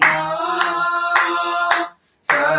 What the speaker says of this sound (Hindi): तालियों के साथ हम परमेश्वर की आराधना करेंगे